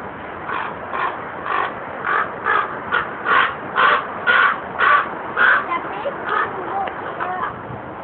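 A raven at a nature and science center in Austin gives a long series of harsh, rhythmic caws, about a dozen in steady succession and fairly close, with faint background murmur beneath.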